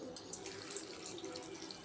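Faint, steady trickle of water running from a tap, with light splashing into a sink.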